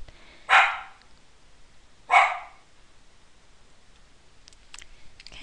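A dog barks twice, loud and close, in single sharp barks about a second and a half apart, followed by faint clicking in an otherwise quiet room.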